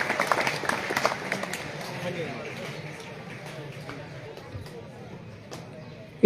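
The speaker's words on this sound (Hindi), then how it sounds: "जोरदार तरीके से एक बार तालियां बजा दीजिए हमारे इन" Audience at a school welcome function clapping for teachers, a burst of applause that starts fairly strong and gradually thins and fades, with scattered voices in the hall.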